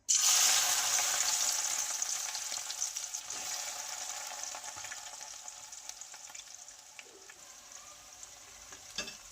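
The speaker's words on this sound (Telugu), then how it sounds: "రౌండ్ కాకరకాయను ఇలా మనము డ్రై ఫ్రై చేసుకోవాలి" Round slices of bitter gourd dry-frying in very hot oil, a loud, steady, bright sizzle that begins at full strength and slowly eases, with no talk over it.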